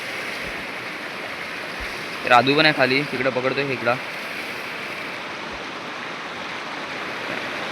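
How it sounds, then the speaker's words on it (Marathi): Steady rushing noise of a fast-flowing river runs throughout, with a voice speaking briefly over it partway through. "पाणी पण खूप आहे ते उतरू नाही शकत पाण्यात पाण्याला वेग पण खूप आहे"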